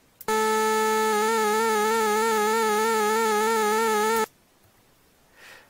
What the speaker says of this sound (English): Let's listen to this sine wave.